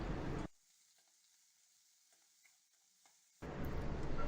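Finely chopped small shallots sizzle in hot oil in a pan for chana dal chutney. The close, bright sizzle comes in two bursts separated by a few seconds of near silence.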